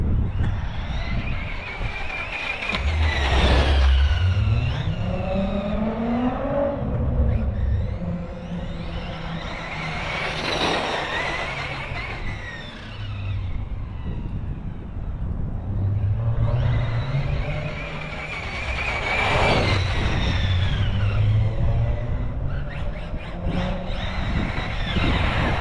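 A Losi 8ight-E electric RC car running on a 6S battery makes repeated high-pitched whining passes, rising and falling as it speeds toward and away, close and loud over a low rumble.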